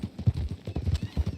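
Horse hooves clip-clop in a quick, steady rhythm in a roleplay video game, close and moderately loud, with a faint whinny.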